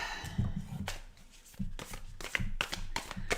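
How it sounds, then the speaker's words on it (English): A deck of tarot cards shuffled by hand up close, a series of soft riffling bursts and flicks with light taps between them, fairly quiet and steady. "One more shuffle here for earth signs"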